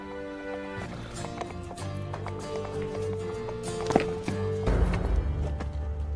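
Horse hooves clip-clopping at a running pace, a steady rhythmic beat over a musical backdrop, with a louder rumble joining near the end.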